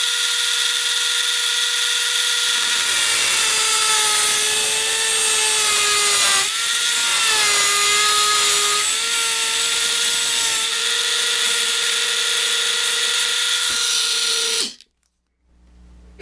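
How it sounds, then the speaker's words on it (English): A Dremel rotary tool cuts a roughly 1/16-inch gap through metal O-scale model train track, a loud steady high-pitched whine with shifting pitch as it moves back and forth, lasting about fifteen seconds before stopping abruptly. "I'll move the Dremel tool back and forth a little bit to deburr the edges as well as widen the gap a little bit"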